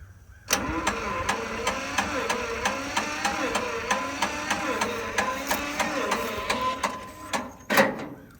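An old tractor engine, abandoned and left for years, cranks over and over in a steady rapid rhythm without catching, loud and close, with a brief pause and a few uneven final turns.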